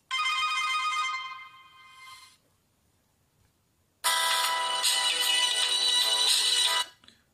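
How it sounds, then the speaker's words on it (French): Ringtone from a Bluboo D2 smartphone playing a bright melodic chime, loud and close, stopping for a moment of near silence before a second louder burst of the tune. "sonnerie du téléphone."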